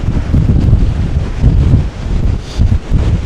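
Strong coastal wind at Muxia buffeting the microphone, a loud continuous roar with gusty surges and possible surf beneath, no talking.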